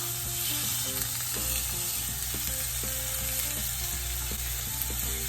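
A black sesame seed crusted tuna loin sears in a hot pan, giving a steady dense sizzle with crackling spits throughout, close and constant, no voices.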